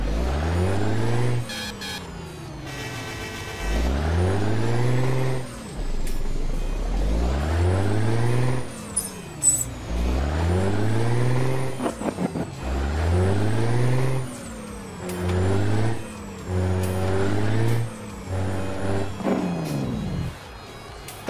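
Modded truck engine in Euro Truck Simulator 2, one shared sound for all trucks, revving up in repeated loud rising sweeps through the gears, with brief air-brake hisses between pulls and no talk.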